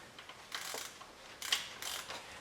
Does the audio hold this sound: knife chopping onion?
no